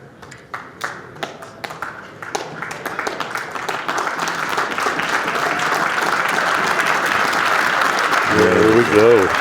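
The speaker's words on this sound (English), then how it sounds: "Got a nice ovation from the crowd." Crowd applause builds into a sustained ovation at a 9-ball pool match at the 2025 Derby City Classic, opening with a few scattered claps that swell into steady, dense clapping. Faint voices sit beneath it near the end.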